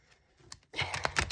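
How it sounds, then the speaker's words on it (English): A deck of tarot cards being shuffled close by: a few faint ticks, then about half a second of dense papery riffling and flapping that grows louder toward the end, with no talk over it. "come on, shuffle in."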